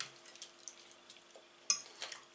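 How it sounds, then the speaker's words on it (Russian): A spoon stirs salad with mayonnaise in a bowl, giving quiet, sparse scrapes and soft squelches, then one sharper clink of metal on the bowl followed by a few more gentle stirring sounds. "Все перемешиваем"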